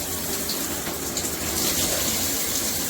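Water spraying steadily from a Jcrob handheld shower head with rain shower combo, a continuous broadband hiss and gush lasting throughout, close and fairly loud.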